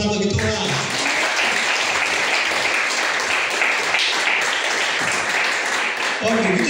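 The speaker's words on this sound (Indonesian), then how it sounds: "Ayo beri tepuk tangan bagi Tuhan" A church congregation applauds steadily and loudly for several seconds, a dense wash of clapping with voices mixed in.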